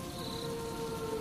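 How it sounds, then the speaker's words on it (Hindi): Steady rain falls outside the door of a hut at night, a dense, continuous hiss with a low rumbling undertone and no voices. "दरवाजे के बाहर लगातार बारिश की आवाज आती रही"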